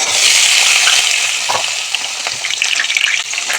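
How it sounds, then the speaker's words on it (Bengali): Potatoes frying in oil with cumin in a wok, a loud close continuous sizzle with stirring scrapes and crackles toward the end, no talking. "এবার আলুগুলো ভেজে নেব।"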